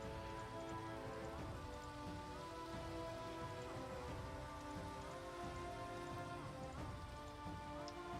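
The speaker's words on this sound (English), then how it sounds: "since it's raining, observe my glorious power!" Steady rain pattering down in the Minecraft video game, a continuous soft hiss of drops falling on surfaces, quiet and even throughout with no voices.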